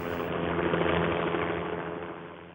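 A Focke twin-rotor helicopter flies past with a steady, dense engine and rotor drone at close range, loud throughout and fading slightly at the end, with no voices.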